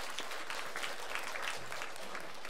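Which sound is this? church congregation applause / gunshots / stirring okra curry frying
church congregation applause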